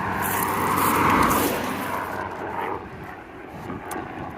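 A helicopter passes overhead near an airport, a broad rumbling engine-and-rotor roar that swells loud early and fades gradually as it moves away outdoors.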